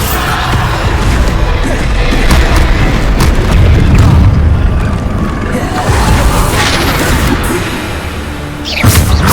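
Repeated Bombarda explosion spells in Hogwarts Legacy combat, a dense barrage of loud booming blasts and crashes running continuously with little pause, layered with game effects.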